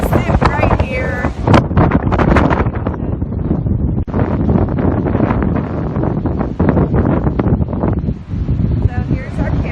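Strong wind on an ocean cliff pounds the microphone in heavy, irregular gusts, roaring loud and close while people talk over it.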